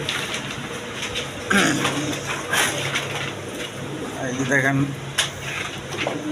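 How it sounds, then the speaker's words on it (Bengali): Fancy pigeons of several breeds, some with young, coo repeatedly in low warbling phrases while someone talks briefly over them nearby. "এখানে বিভিন্ন বিটের কবুতর আছে দেখেন"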